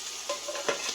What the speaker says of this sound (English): I'm just going to add just a little bit more bacon grease.